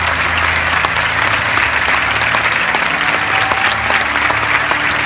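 An audience in Culiacán applauds in sustained, dense clapping that holds steady and loud from start to finish, with no talk over it.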